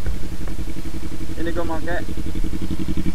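A Kawasaki Z250 motorcycle fitted with a WRX exhaust idles with a steady, throbbing low rumble while someone talks over it close by.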